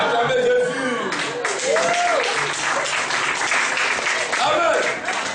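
A church congregation claps and cheers for Jesus, loud sustained applause with shouts and whoops rising over it, and a voice calling out above the crowd near the start.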